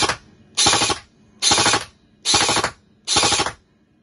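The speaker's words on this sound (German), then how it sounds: "Jetzt einmal Vollauto mit Muzzle Flash." Airsoft gun with a muzzle flash tracer unit firing full auto in four rapid bursts of about half a second each, loud and close, with short pauses between them.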